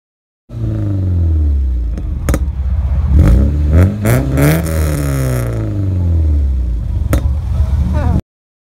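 Several cars rev their engines at a charity car meet outside a pool hall, with loud rising and falling revs, sharp throttle blips and a continuous rumble that lasts throughout.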